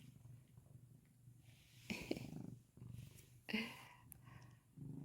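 A cat purrs softly and steadily up close, waiting for a treat, with a couple of brief louder snuffling bursts breaking through the low rumble.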